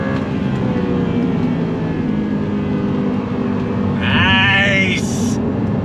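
A 2009 Audi R8 with a 6-speed manual and all-wheel drive pulls hard under acceleration. Its engine drones loud and close, rising steadily, with a brief higher whine near the end.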